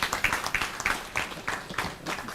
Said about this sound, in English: a louder applause for the director.